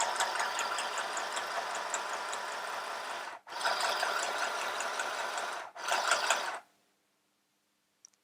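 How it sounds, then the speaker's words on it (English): A mini sewing machine stitches steadily in a rapid mechanical whirring patter, stopping briefly twice, then falls silent after a last short run. "so now I'm going to sew."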